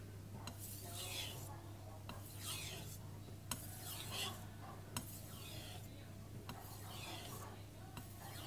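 A knife blade scrapes in long, even strokes across a Morihei whetstone, a rhythmic rasp repeating about once every second or so, with occasional light taps, close and quiet over a low background hum.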